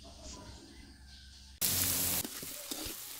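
Tomatoes and carrots for pork giniling hit a hot pan with a sudden loud sizzle, then keep frying steadily with soft stirring clatter, after a quieter stretch of background noise.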